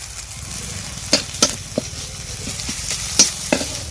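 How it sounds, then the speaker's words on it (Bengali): Green chillies and chopped ginger fry in a pan, producing a dense, even sizzle punctuated by a series of crisp spatula knocks and scrapes close by. "লঙ্কাটাকেও ভালো করে ভেজে নেব এবার আমি দিয়ে দিচ্ছি আদা কুচি"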